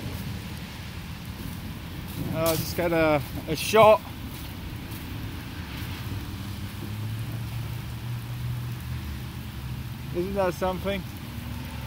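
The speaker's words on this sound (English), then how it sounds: "we've had huge amounts of hail and obviously a lot of rain." Heavy rain from a supercell storm that also brought hail and flooding hisses in a steady, moderately loud wash outdoors, while someone speaks briefly over it.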